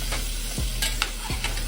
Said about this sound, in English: you'll know after it stops simmering, when you stop hearing it sizzling